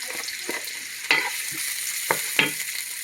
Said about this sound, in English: 2 tablespoons of oil. And then I'm gonna put at least half cup of chopped onion.